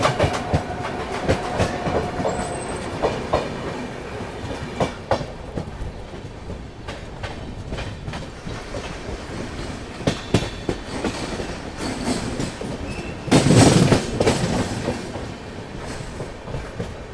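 The Goa Rajdhani Express runs along the tracks, with a steady rumbling roll and rhythmic clickety-clack of wheels over rail joints. Brief squeals and a louder rattling burst rise near the end.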